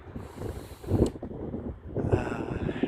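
Strong, cold wind buffets the microphone outdoors near a tram stop and guest house, a steady low roar that surges and gusts in uneven waves for about three seconds.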